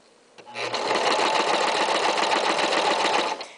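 A sewing machine runs in one steady, fast burst of about three seconds, stitching a curved fabric seam without pins, its rapid needle chatter close and loud.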